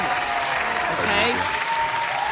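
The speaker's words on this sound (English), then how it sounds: "let me give y'all a round of applause" An audience applauds steadily and fairly loudly for the full stretch, with dense, even clapping and a faint voice or tone underneath.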